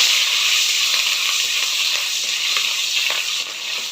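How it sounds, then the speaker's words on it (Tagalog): Pork fat sizzles in a hot pan as it fries, producing a loud, continuous crackling hiss that stays close and steady with no voices. "Prito ko lang saglit yung taba."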